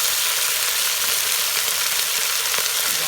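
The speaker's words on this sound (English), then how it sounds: "all of that is going straight in to get that good sizzle we talked about" Meat and onions sizzle steadily in a hot pan, a dense crackling hiss that stays loud and even throughout.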